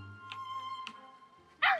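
Animal cubs in the Planet Zoo game give short yipping calls, two brief cries over a faint steady tone, then a louder sharp howl burst at the end.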